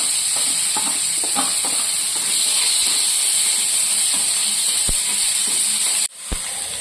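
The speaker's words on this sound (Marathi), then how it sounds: "तेल गरम केलंय, इथं त्यामध्ये जिरं, मोहरी आणि ह्या भाज्या कट केल्या त्या परतून घ्यायच्या" Cumin, mustard seeds and chopped vegetables sizzle loudly in hot oil, a dense, constant hiss up close. A few sharp pops and crackles break through, and the sizzle dips briefly near the end.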